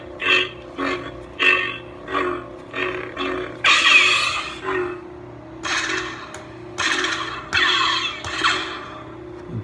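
A lightsaber with the Ascension sound font gives a steady low electric hum under a string of loud, crackling, roaring bursts that repeat at irregular intervals, close and with no talking.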